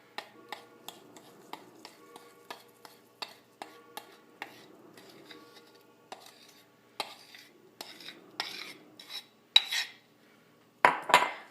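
A spoon scrapes and clinks through a dry toilet bomb mixture in a bowl, giving a quick series of close, light ticking taps that turn into rougher, louder scraping toward the end.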